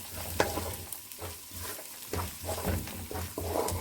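Tomato sauce being stir-fried with onion, pepper and garlic, a spoon scraping and stirring in rhythmic strokes over a soft sizzle, close and clear.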